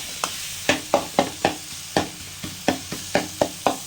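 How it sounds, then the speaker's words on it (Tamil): Tomatoes sauté in a hot pan while a spoon stirs them, giving a regular series of sharp scraping knocks over a low sizzle, close up and without voices. "இப்போ நல்லா தக்காளி வதங்கட்டும்"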